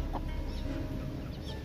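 A chicken clucks faintly in the background over a steady noisy ambience, with a couple of soft, brief calls.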